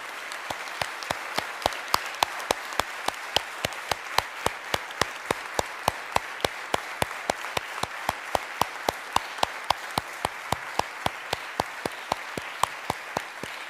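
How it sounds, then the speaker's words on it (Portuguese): Steady, rhythmic applause from a theatre audience at the closing ceremony of a national theatre competition, sharp regular claps sounding almost like one person clapping evenly, close and continuous throughout with no voices. "uma grande salva de palmas para o professor Afonso"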